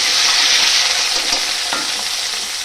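Potatoes and eggplant fry in a pan, a bright continuous sizzle with light stirring scrapes, close and steady throughout.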